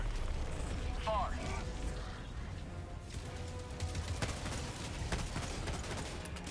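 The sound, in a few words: orbital strike explosions in a video game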